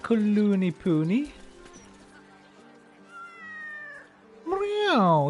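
Cat meowing in the video game Baldur's Gate III: two loud, drawn-out meows open the clip, then quieter game ambience plays before a third long, close meow at the end.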